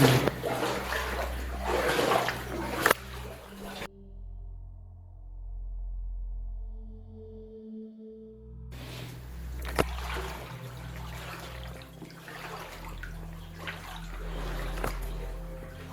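Water trickles and laps in a flooded underground tunnel room filled with crystal-clear water, a steady close watery wash with low rumble, briefly dropping to near silence midway before resuming.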